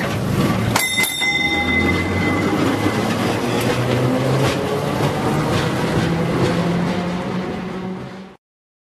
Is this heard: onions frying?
no